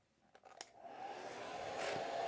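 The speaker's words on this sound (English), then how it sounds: "So I'm going to take the hair dryer, and going to get it dry." A hair dryer blows steadily over a wet watercolor painting of a path and trees, its airflow rising into a continuous broadband whoosh after a few brief clicks at the start.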